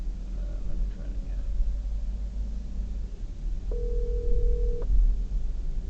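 An outgoing phone call made after Hurricane Milton rings back with a single steady tone lasting about a second, heard over low background rumble and faint talk.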